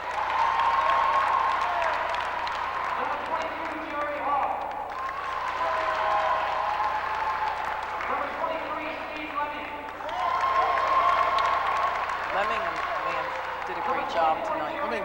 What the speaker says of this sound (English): a big cheer goes up for Glenn Del Senor